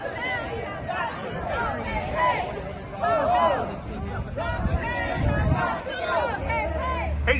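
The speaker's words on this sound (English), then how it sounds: "And the crowd is going wild." A crowd of protesters at a Rally for Democracy over the postal service cheers and shouts, a dense babble of voices and whoops close by, with people talking throughout.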